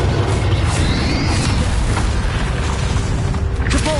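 A Bombarda explosion spell in Hogwarts Legacy booms with rumbling low-end weight amid sustained magical crackle and mechanical clatter, the blast blending into a loud, continuous wash of combat effects.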